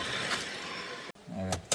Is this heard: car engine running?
yes